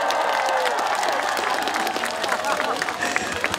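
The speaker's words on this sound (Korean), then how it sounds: "박수 한 번만 쳐주세요." Festival audience at an outdoor autumn flower festival stage claps continuously, a dense, even patter of many hands close by throughout.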